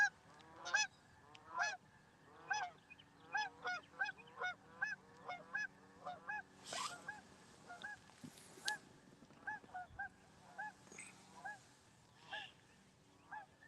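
Several Canada geese honk repeatedly as they fly over a lake, their calls coming in a steady series of overlapping honks, fairly clear above a quiet outdoor background.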